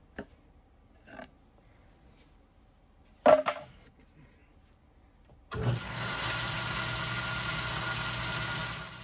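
A 1942 South Bend lathe with a newly mounted 6-jaw chuck on its backplate: a few scattered clanks and knocks, then the motor switches on and runs with a steady, even whir until the end.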